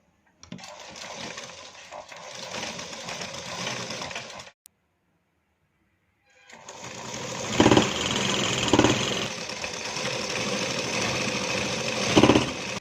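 A sewing machine stitches a two-piece katori blouse, running in a steady close whirring burst, stopping for about two seconds, then running again for a longer stretch with a few louder clunks.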